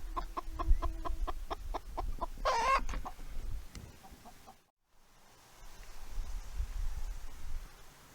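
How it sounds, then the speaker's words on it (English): Hens setting in nest boxes in a Deep South Texas chicken coop cluck in a rapid, rhythmic run of short calls, broken by one louder squawk, then settle into softer, scattered clucking after a brief pause. "And a couple hens setting in the nest boxes."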